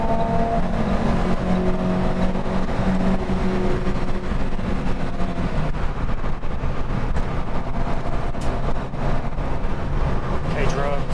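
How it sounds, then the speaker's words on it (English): Faster cars pass a small Renault Twingo on a race circuit during a track day, a steady loud engine roar under wind noise with a voice talking throughout. "I had to sit here and wait for all these faster cars to get past"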